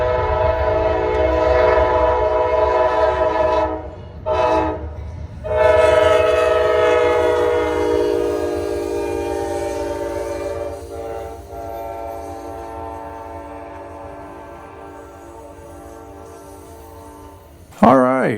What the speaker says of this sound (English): We got Amtrak 131 in the lead and 17 trailing behind it.